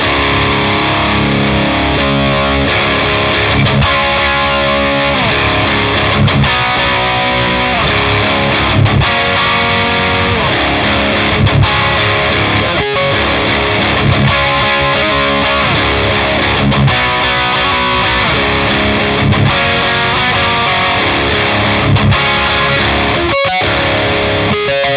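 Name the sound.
electric guitar through Friedman Jose 20 amp, high gain tone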